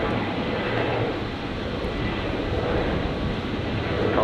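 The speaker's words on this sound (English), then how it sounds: "Next departure, Qantas 539, heading down to Sydney." A Qantas airliner departing Brisbane Airport gives off a steady, broad engine roar that fills the whole stretch at constant loudness without letting up.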